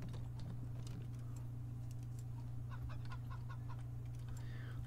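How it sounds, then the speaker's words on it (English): Robot chicken clucking in the video game Wasteland 3, a few short mechanical clucks in a quick cluster near the middle, fairly faint over a steady low game hum and background ambience. "Robo chicken."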